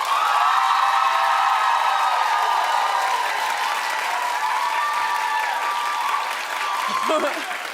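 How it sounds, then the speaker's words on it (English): A talk-show studio audience claps and cheers loudly as a vote, a sustained wash of applause with whoops under a host's voice. "So now, who thinks Katy's prettier? Clap"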